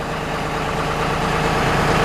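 A big John Deere tractor idles steadily at a sawmill where pecan logs are cut into slabs, a continuous low engine rumble running alone at close range throughout.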